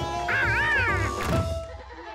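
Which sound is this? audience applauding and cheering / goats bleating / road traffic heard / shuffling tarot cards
goats bleating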